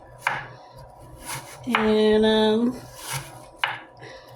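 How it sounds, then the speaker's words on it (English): A knife chops scallion onions on a board, a few sharp close taps spaced out around a brief ringing clatter, faint and near. "I'll do the best I can on chopping."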